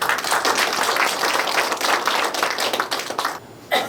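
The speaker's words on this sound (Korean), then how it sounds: "오늘 참석하신 모든 분들 우리를 스스로를 위해 다시 한번 큰 박수 부탁드립니다." An audience at a humanities lecture claps in sustained, dense applause, loud and fairly close, that thins out near the end before a final burst.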